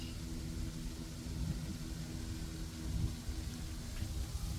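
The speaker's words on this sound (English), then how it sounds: "Can you hear the wind fluttering the leaves?" Wind rustles leaves beside a lake in a steady, close broadband hiss over a low rumble of wind buffeting, with no talking.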